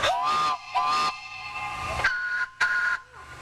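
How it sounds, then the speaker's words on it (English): A locomotive whistle sounds in several loud, breathy blasts of different lengths, with a hissing rush around the tones and short silent gaps between them. "And this is a locomotive."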